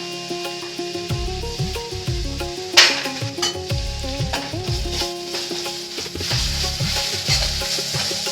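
Fried onions sizzle in a pan with ginger garlic paste, stirred in a quick, rhythmic series of scraping strokes under a continuous hiss, with one louder clatter partway through.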